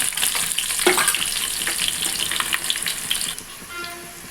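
Onions crackle and sizzle in hot oil with cumin, mustard seeds and fenugreek, a steady frying hiss with scattered pops for a fish curry (chepala pulusu), close and continuous without talk.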